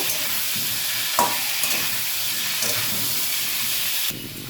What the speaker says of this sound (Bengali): আলুটা একটু লাল লাল করে একটু ভেজে নেব